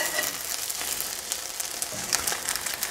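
Panettone French toast frying in a hot pan, a steady bright sizzle that fills the whole stretch, close and continuous, with a few crackling spikes as the slice is flipped and no talk.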